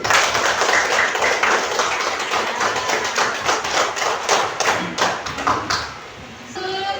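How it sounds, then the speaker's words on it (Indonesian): A classroom group claps for the first group of students, sharp distinct hand claps in an irregular patter that thins out near the end, with a brief voice at the close. "beri tepuk tangan untuk kelompok 1"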